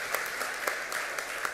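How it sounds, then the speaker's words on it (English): A church congregation at a Baptist Sunday service clapping in a steady, even rhythm, the claps moderately loud and close with no talk over them. "So all of you who were clapping were here this morning."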